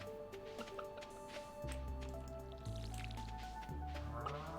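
Water pours and splashes in short squishy bursts during watering in Stardew Valley, with gentle game music playing underneath.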